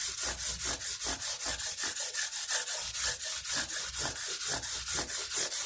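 A 180-grit abrasive pad rubbing back and forth across mandolin frets, steady rhythmic scraping strokes about four per second, close and continuous, with no voices.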